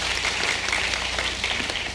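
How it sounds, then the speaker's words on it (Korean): Warm applause from an audience at a book-sharing cultural event, a steady wash of many hands clapping at moderate loudness with a faint electrical hum beneath. "여러분 큰 박수로 청해 듣도록 하겠습니다."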